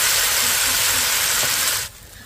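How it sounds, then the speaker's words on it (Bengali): Beaten egg poured into hot oil in a pan gives a loud, close, bright hiss of sizzling that holds steady and then drops away sharply to a quiet background. "তেল গরম হয়ে গেছে, এর মধ্যে আমি গুলে রাখা ডিমটা দিয়ে দিচ্ছি।"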